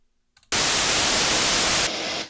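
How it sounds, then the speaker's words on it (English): A loud, steady burst of harsh, hissing white noise starts abruptly after a short quiet moment and holds evenly, shifting slightly in tone near the end. "And for purpose of demonstration, here's white noise."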